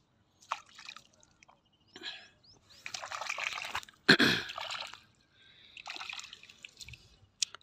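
Fresh sweet potatoes being rinsed by hand in water outdoors near a cotton field, with intermittent splashing and sloshing bursts, one sharp splash partway through, close and moderately loud with no talking.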